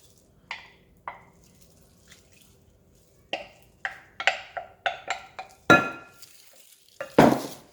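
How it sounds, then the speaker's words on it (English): A spoon clinks and scrapes around a bowl mixing bran and apricot cookie batter in scattered strokes, sparse at first and then quicker, with a louder scrape near the end. "And we'll give that a mix"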